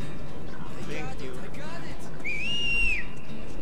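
A single rising then steady whistled tone, held for under a second, sounds in the Metro 2033 video game after brief voices, over a constant low rumble of background ambience.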